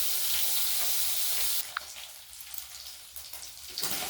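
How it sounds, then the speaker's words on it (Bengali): Fish pieces, including the head, fry in hot oil with a steady, close sizzle that drops to a softer crackle partway through, broken by a few light stirring clicks. "এই মাছগুলো ভেজে নিই আগে।"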